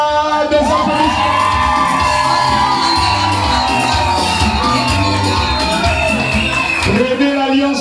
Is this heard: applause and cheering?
yes